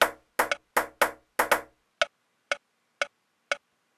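Sharp percussive clicks in a steady rhythm: a busier group of louder clicks with some doubled hits, then single lighter ticks evenly spaced about half a second apart.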